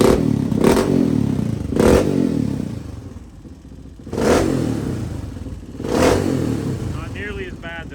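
A 1986 Honda XR628R dual-carb motorcycle engine idles close by with a slightly uneven popple, swelling in several throttle blips roughly every two seconds before settling back to a rough idle.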